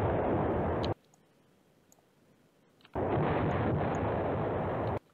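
Artillery bombardment in the wargame Command Ops 2, heard as two long, loud stretches of dense rumbling noise that start and stop abruptly, with a quiet gap between them.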